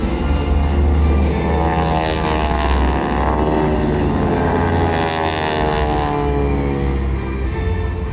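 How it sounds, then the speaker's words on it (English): Propeller aircraft of the GEICO Skytypers team pass overhead at an air show, a loud sustained engine drone that swells and shifts in pitch as the planes fly by, with no voices. "watch high above the target area again as two aircraft are dispatched to assess the damage"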